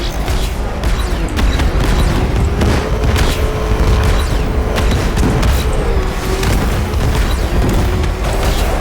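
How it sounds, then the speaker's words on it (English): An explosion at Ace Chemicals in the video game Batman: Arkham Knight: a loud, continuous booming roar with rumbling bass and crackling debris that fills the whole stretch, with a faint wavering tone running through it. "Warning, explosion imminent."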